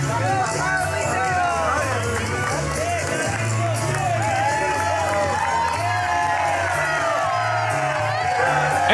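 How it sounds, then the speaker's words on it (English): A packed professional wrestling crowd roars steadily for Carlito at a triple threat match, a dense wall of cheering, whoops and babble that holds loud and unbroken throughout. "listen to this crowd erupt for Carlito"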